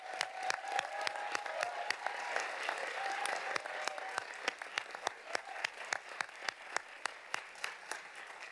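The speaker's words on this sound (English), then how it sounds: "Please join me in a huge round of applause for all our teachers." An audience at a school board meeting applauds its teachers, a dense wash of clapping that gradually thins out into a few separate, sharp claps near the end.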